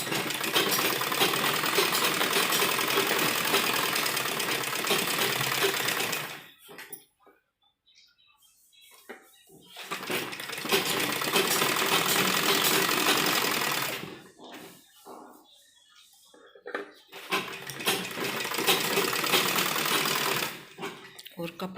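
A sewing machine stitches a lined embroidered suit in three long, loud bursts with near-silent gaps between them, a close steady mechanical whir.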